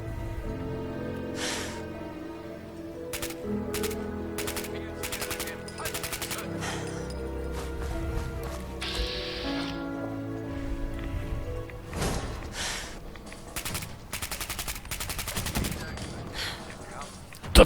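Bursts of weapon gunfire in Fallout 4's Far Harbor swamp on Cranberry Island: loud, rapid volleys of shots that come in irregular clusters over a steady bed of game music, with no talk.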